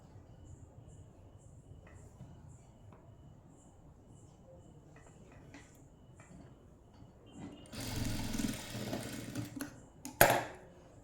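A sewing machine stitches along a folded fabric edge in one short, whirring run near the end, after a quiet stretch of faint handling sounds.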